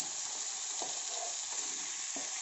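Chicken breast pieces hiss and sizzle steadily in a hot pan with garlic, a continuous close frying crackle broken by a couple of soft clinks.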